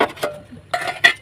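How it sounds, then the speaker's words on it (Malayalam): Crab curry being stirred in a pot, with a few scattered clinks and scrapes of a utensil against the metal, close by and fairly quiet, separated by brief pauses. "നമുക്ക് ഇത് നല്ലോണം ഇളക്കിയിട്ട് ഒരു 5 മിനിറ്റ് കൊണ്ട് അടച്ചു വെക്കാം"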